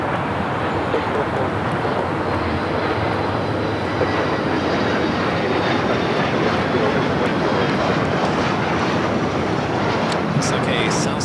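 An airliner taking off from the south side at LAX: a loud, continuous broadband jet roar holding steady throughout.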